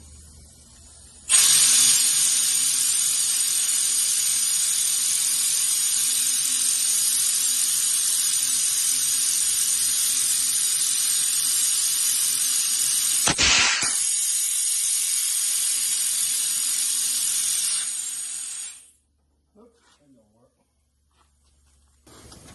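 A cheater air tank blasts air to seat a tire bead on a '66 Plymouth wheel, one long, loud, steady hiss lasting about seventeen seconds with a brief sharp break partway through, then a sudden cutoff followed by near silence.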